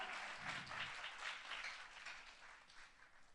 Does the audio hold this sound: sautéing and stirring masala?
no